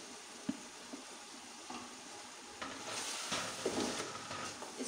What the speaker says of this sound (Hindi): 2-3 मिनट तक वैसे भूनूंगी